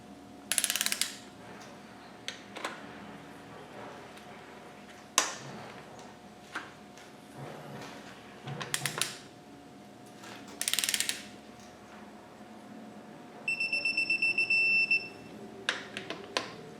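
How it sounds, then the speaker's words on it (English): Ratchet tightening bolts on a Land Rover 200Tdi engine during piston fitting, heard as scattered short clicking bursts amid quiet workshop clanks, with a faint steady hum underneath. "we'll just progressively tighten up"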